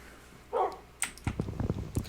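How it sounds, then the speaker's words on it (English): A few short dog barks, fairly distant and muffled, one burst followed by a quick series of yips. "I hear Dwight barking"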